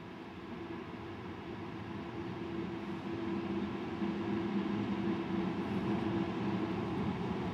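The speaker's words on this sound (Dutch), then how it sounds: "En deze trein rijdt ook richting Salzburg." A train passing on the line toward Salzburg near Rosenheim, a low steady rumble that slowly swells louder, heard alone from a moderate distance with no voices.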